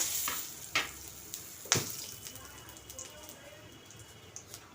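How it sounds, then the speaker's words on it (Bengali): Dried chilli, clove, cardamom, cinnamon and bay leaf hit hot oil with a few sharp crackling pops, then settle into a soft, steady sizzle, while a voice talks quietly over the cooking. "এখন এই তেলের মধ্যে আমি শুকনো লঙ্কা, লং, এলাচ, দারচিনি, তেজপাতা"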